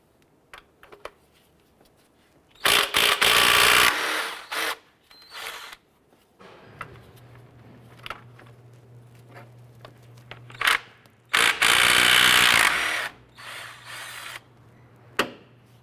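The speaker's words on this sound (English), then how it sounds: "Using our 17mm socket, we're going to go ahead and remove this," Socket wrench loosening Honda Civic motor mount bolts. Bursts of rapid ratcheting clicks come up close, separated by quiet gaps, with small metallic taps and handling noises between them.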